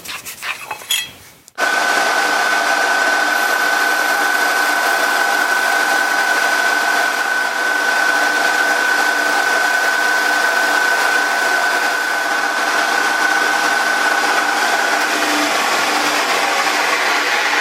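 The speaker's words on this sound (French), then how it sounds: "on passe cet outil, ça c'est un alésoir, et ça finit juste de mater la perce" A reamer finishes the bore of a wooden folk instrument turning on a metal lathe, a loud, steady motor drone with a high whine held for many seconds after a brief, clattering start.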